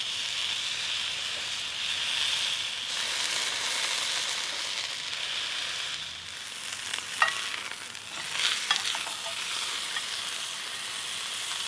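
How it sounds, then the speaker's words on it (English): A teres major shoulder tender steak sears in a hot cast iron skillet, giving a steady, loud close-up sizzle with a few sharp pops and crackles near the end. "Going to sear it quick on each side before we turn it completely over."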